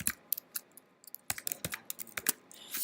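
Rapid typing on a Windows computer keyboard, a run of sharp clustered key clicks with short pauses between bursts, close and clear with no talking.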